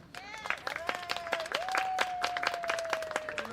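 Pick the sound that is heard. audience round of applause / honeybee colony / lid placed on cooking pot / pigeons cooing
audience round of applause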